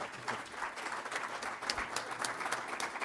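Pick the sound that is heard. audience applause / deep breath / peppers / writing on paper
audience applause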